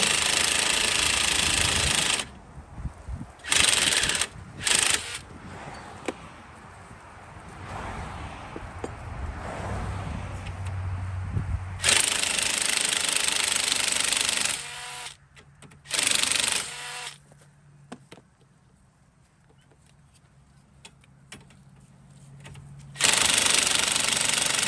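Impact wrench rattling loose a front wheel bearing bolt on a 2010 BMW 535i in a garage, loud harsh hammering bursts in several runs separated by pauses and quieter clinks.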